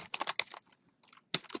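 Rapid keystrokes on a computer keyboard entering a gpart resize command on FreeBSD, close and clear, in an irregular burst of clicks, a short pause, then a few more keys.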